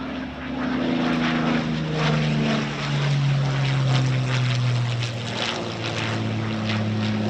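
A de Havilland Mosquito FB Mk 26 passes with its twin propeller engines droning loud and close, the throbbing tone rising and falling steadily throughout without speech.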